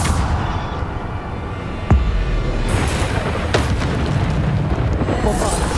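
A Bombarda spell explosion in the video game Hogwarts Legacy, a deep rumbling boom with a sharp crack, over steady loud noise.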